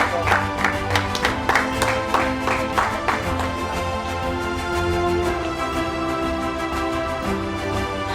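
Audience applause for award-winning father and son at an awards ceremony, a burst of claps in the first few seconds that fades into steady music with sustained tones.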